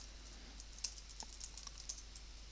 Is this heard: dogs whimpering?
no